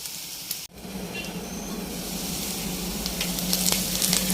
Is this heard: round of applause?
no